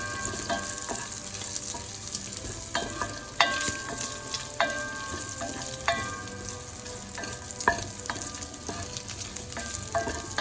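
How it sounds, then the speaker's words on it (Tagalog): Bacon frying in a pot for a seafood chowder, a dense crackling sizzle with frequent sharp pops and spits scattered irregularly throughout, moderately loud and close, with no voices. "Iprito na natin yung bacon."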